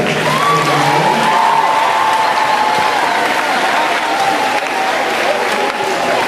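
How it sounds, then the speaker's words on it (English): An audience at a school fitness assembly claps, a steady, dense round of applause filling a hall for several seconds, with some crowd murmur underneath. "Let's give her a round of applause."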